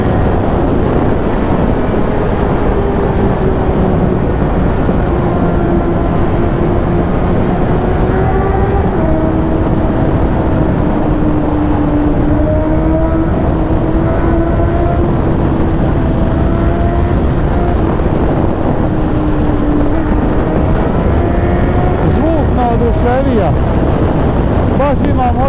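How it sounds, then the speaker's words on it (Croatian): A 2008 Suzuki Bandit GSF 650 S motorcycle engine drones and revs, its pitch slowly rising and falling for the whole stretch under heavy wind buffeting. "Baš ima motor dobar zvuk"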